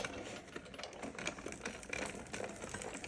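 A Sizzix Big Shot die-cutting machine, the small 6-inch model, rattles and clicks continuously while being cranked, a close, dense ratcheting texture that goes on for a few seconds without talk.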